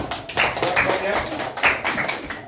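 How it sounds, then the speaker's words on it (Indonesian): Students in a classroom clap in a short, uneven burst of individual hand claps, fairly close, while a voice talks over them. "Tepuk tangan dulu, anak."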